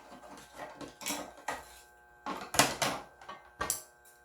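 A frying pan being heated and handled for tofu deodeok fritters gives a handful of sharp metallic clanks and scrapes, separated by short quiet gaps.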